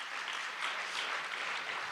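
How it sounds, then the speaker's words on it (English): Clapping from a convention audience in a hall, a soft, even wash of applause held at a distant, fairly quiet level throughout. "And you're clapping for God right now"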